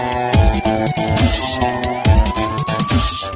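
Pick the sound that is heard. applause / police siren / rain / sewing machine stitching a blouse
police siren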